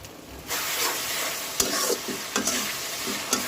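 Whole spices fry in hot oil: bay leaves, black peppercorns, cloves, cinnamon pieces and cardamom. A steady sizzle rises with stirring scrapes and a few sharp taps of the spoon against the pan.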